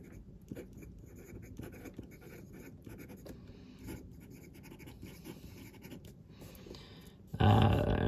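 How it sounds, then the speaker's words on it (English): A fountain pen with a medium Schmidt steel nib writes on paper in quiet, close scratching strokes with short pauses between them. A sudden louder rustle comes at the very end. "I love writing with this pen."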